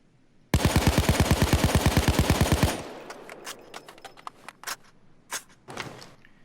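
A Colt 727 (AMCAR) assault rifle firing full-auto in the game Payday 2, a loud rapid burst of about twenty evenly spaced shots lasting two seconds, followed by scattered clinks and rattles of spent casings.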